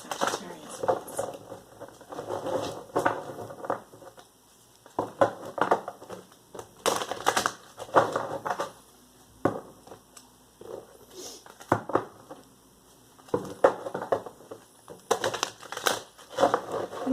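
Tarot cards are shuffled by hand in repeated short bursts of papery riffling and slapping, separated by brief pauses, close and moderately quiet against a faint steady hiss.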